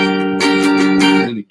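A guitar plays one short bar of music, a few sustained notes strummed and changing, loud and close, ending abruptly, with no voices.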